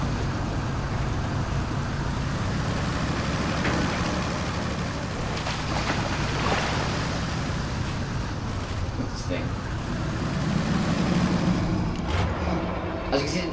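A truck engine in the off-road driving game Spintires Mudrunner drones as a continuous rough, broadband rumble, steady and fairly loud throughout with no clear revs or pauses; a voice seems to come through faintly in places.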